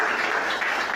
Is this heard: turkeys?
no